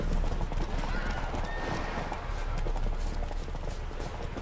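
Herd of wild horses in The Witcher 3 game world, steady hoof clip-clop with neighing and whinnying over a dense, continuous background, moderately loud and fairly close.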